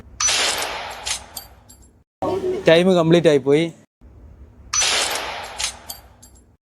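Bursts of rapid gunfire in a Squid Game challenge, loud and close, come before and after a short stretch of speech in the middle.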